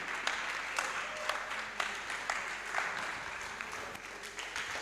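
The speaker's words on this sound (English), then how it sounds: "Please let us have a standing ovation for him." An audience at a Rotary Youth Leadership Academy event gives a standing ovation, with dense, continuous clapping and a few louder individual claps standing out, moderately distant and sustained throughout.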